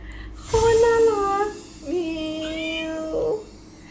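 A cat gives two clear, drawn-out meows in a music video, the first higher and wavering, the second lower and longer. Both are close and loud, with no talking.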